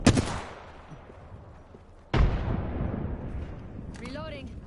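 A frag grenade going off in the video game Apex Legends: a sharp, loud explosive burst at the start, then a second heavy boom about two seconds later with a long rumbling decay, and a brief electronic whine near the end.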